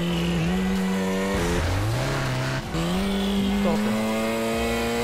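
A Chevrolet Vectra CD drives at high speed in GTA, its engine droning loud and steady and its revs rising and dipping with gear shifts, with a brief word spoken over it.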